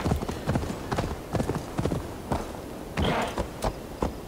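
A horse's hooves clip-clop in the Assassin's Creed Valhalla video game, with a steady, close rhythm of sharp knocks over about four seconds and a faint voice underneath.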